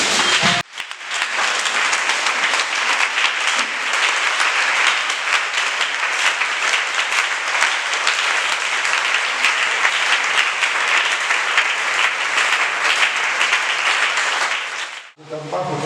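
A church congregation applauds and acclaims the Lord Jesus with loud, sustained clapping and cheering voices for about fifteen seconds, steady and dense throughout, breaking off abruptly at the end.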